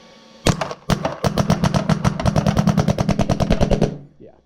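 A Shocker RSX paintball marker fires in cold weather, a rapid string of about thirty sharp pops in a steady fast rhythm, loud and close, stopping abruptly.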